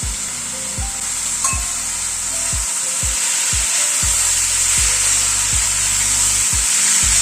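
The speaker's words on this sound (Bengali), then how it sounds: "বরবটিটাকে মশলা ও চিকেনের সাথে মিশিয়ে দিচ্ছি" Long beans with chicken and spices stir-fry in a pan, a loud steady sizzle punctuated by regular scraping strokes of the spatula, close up with no talking.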